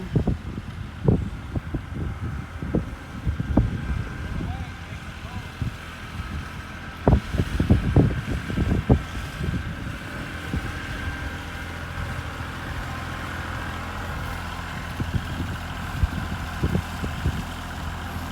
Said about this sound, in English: So he's taking the tractor back there.